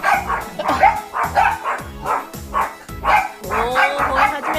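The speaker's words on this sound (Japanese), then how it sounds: "お、おお、吠え始めた。" Several dogs bark rapidly and loudly nearby, overlapping yaps and woofs in a continuous excited chorus.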